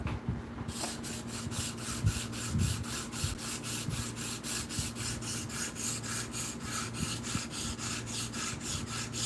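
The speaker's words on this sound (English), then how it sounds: "First time ever sharpening a dagger ground blade too like this." A dagger ground knife blade is sharpened in a clamp-style sharpener with rhythmic back-and-forth strokes of abrasive on steel, close up and repeating evenly with no voices.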